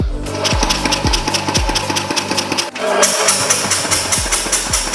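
Wheel Horse 753 garden tractor engine cranking, then firing and running rough with an uneven, sputtering rhythm and mechanical clatter, loud and close, with no talk.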